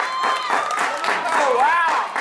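Brief applause with cheering for a high school softball team, steady clapping under voices raised in the crowd.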